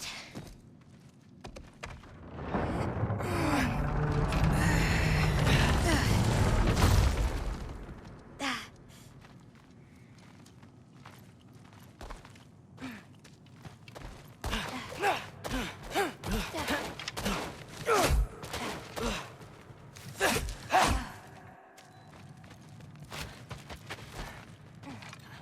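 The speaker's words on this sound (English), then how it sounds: "I think I can hear something breathing near the back of the cellar." A creature breathing in a cellar in God of War Ragnarok: a loud breathy rush early on, then fainter breaths among scattered creaks and clicks.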